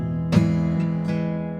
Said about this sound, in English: you could strum the sixth string as well